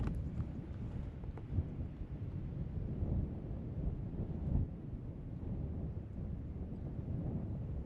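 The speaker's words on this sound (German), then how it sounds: "Nur sehr windig heute." Strong wind buffets an outdoor microphone at a scenic lookout during a motorcycle trip, a steady low roaring rumble with gusts lasting throughout and no voices.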